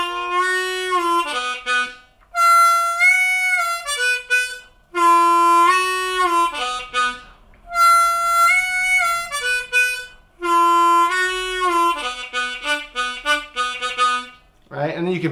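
Blues harmonica lick in call-and-response form, a middle-octave phrase answered by a higher-octave phrase, repeated in clear, close, bright bursts with short pauses, a brief low voice at the very end.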